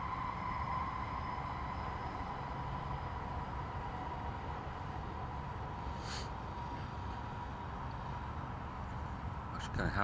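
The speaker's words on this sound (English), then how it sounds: "Kind of happy about the squeaky train today." A train passes with a continuous metallic squeal over a steady rolling rumble, sustained and moderately distant throughout.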